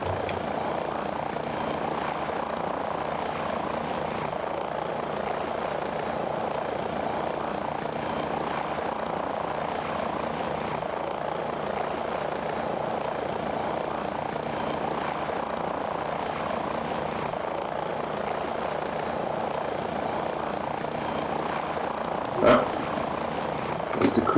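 A UH-1 helicopter in the FlightGear flight simulator gives a steady, continuous rotor and turbine drone that holds at an even level throughout, with a brief click and shift near the end.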